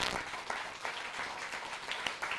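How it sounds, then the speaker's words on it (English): A town hall audience claps for a documentary episode, a steady wash of applause that holds evenly from start to end at moderate loudness with no speech over it. "y'all clap it up for the B1 documentary"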